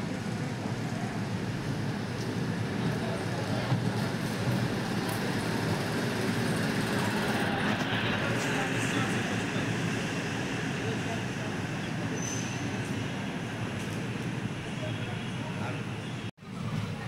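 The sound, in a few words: Ramanathapuram to Tambaram express train departing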